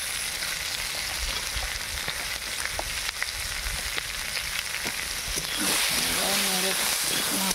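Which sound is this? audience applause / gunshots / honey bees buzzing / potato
potato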